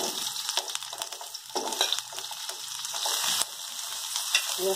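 Garlic and bell pepper sizzle steadily in hot oil in a pan, a close, dense hiss with small crackles and faint scraping clicks running throughout.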